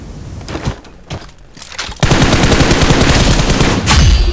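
Rapid game gunfire from a shooter played on a GT20 Pro phone, a loud dense burst of automatic shots starting abruptly and sustained to the end after a quieter stretch of scattered single shots.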